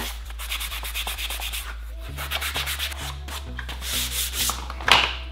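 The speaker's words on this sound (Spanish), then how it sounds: "Que el lijado se haga correctamente" Rhythmic rubbing strokes of sandpaper scrape back and forth over a hard plastic car part, close and steady, over a low background hum.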